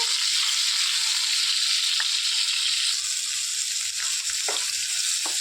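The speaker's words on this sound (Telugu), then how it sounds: "ఈ ఎండి చేప ముక్కల్ని వేడి నీళ్ళల్లో కడిగి శుభ్రం చేసి పెట్టుకున్న ముక్కలండి ఇందులో వేసేసుకోవాలి వేయించుకోవాలండి ఎర్ర రంగు వచ్చేవరకు" Dried fish pieces, washed in hot water, fry in hot oil for a brinjal and dried fish stew, making a loud continuous close sizzle with a few brief clinks and pops.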